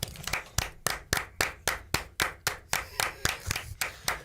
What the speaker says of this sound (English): Hey, can we give Chandler the same kind of applause I got for the WNCT?